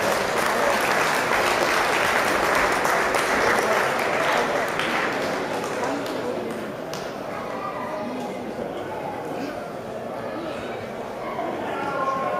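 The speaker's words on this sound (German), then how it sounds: "nochmal Ihr Applaus für die besten Boxer im Mittelgewicht" An audience at a boxing championship award ceremony applauds the best middleweight boxers, a steady, dense clapping that runs for several seconds, strong at first and then settling a little.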